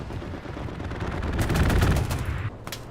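Machine gun fire rips through a competitive 36-versus-36 Hell Let Loose match at the SME Church map, a loud rapid burst of rattling shots swelling mid-way and then dropping off near the end.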